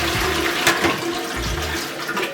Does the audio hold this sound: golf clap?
no